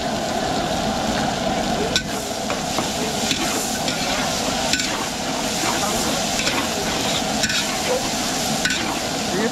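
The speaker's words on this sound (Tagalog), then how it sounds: "Ay, bawang. Buyas. Yun, magigisa na po." Garlic and onion sauté in a pan at a big outdoor event, a loud, constant sizzle with sharp scraping clicks of stirring and a low background rumble throughout.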